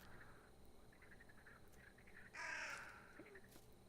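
A single loud crow caw in a video game rings out over a quiet, faintly buzzing outdoor forest ambience, with a few softer bird chirps around it.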